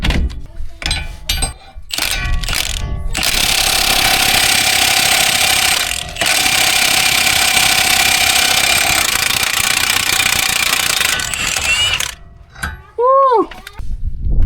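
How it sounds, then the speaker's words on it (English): A power tool cuts through a car CV axle, a loud sustained grinding rasp lasting roughly nine seconds, preceded by a few sharp knocks and clanks and ending with short squeaky tones. "I cut the CV axle a little bit shorter."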